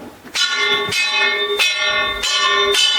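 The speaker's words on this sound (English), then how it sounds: "I am going to hit the rock, hear the noise, feel the difference." Rock struck by hand inside a gold mine in Bendigo, Australia, during a safety check, ringing out like a bell in five loud, evenly spaced strikes with sustained metallic tones between hits.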